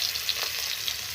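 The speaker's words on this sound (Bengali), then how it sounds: "পটলগুলো আমি লাল লাল করে ভেজে নেব।" Pieces of pointed gourd (potol) fry in oil in a wok, giving a close, continuous crackling sizzle with a faint stir or two in a brief moment.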